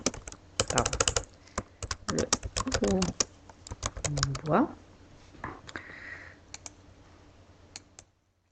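Text is typed on a computer keyboard in quick bursts of close, crisp key clicks, with a voice speaking alongside before the tapping thins out to a few isolated presses.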